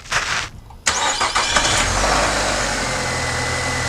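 A 2011 Nissan Altima, which has a popping noise when shifted to drive, cranks briefly and catches, then settles into a steady close idle with no talk.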